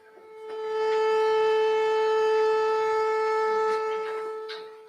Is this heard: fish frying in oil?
no